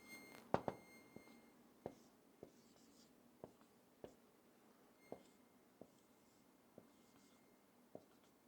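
Marker or chalk writing a word on a board during a lesson, a quiet series of short taps and strokes at irregular intervals, with a faint whisper-quiet room behind.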